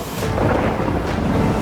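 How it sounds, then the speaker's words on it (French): Loud, continuous rumbling thunder rolls through a storm over an outdoor shelter, a steady roar filling the whole moment with no voices. "C'est le tonnerre?"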